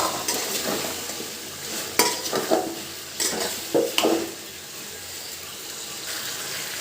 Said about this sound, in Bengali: এখন দিয়ে দেবো টমেটো, দিয়ে দিচ্ছি টমেটো